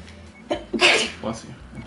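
A single sharp human sneeze bursts out during a couple's co-op Overcooked session, loud and close, surrounded by background game music and chatter.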